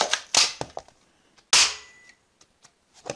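A Chinese toy pistol fires hydrogel gel balls, giving sharp snapping pops: a cluster of quick shots, a pause, then another loud crack followed by faint ticks of balls landing.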